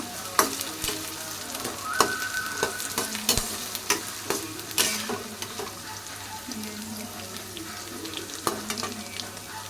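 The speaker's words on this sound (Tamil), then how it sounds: "இஞ்சி நல்லா கொஞ்சம் வதங்கட்டுங்க." Ginger sautés in a pan for mint chutney, giving a steady sizzle and fry with repeated scraping stir clicks and spoon knocks, close up and without voices.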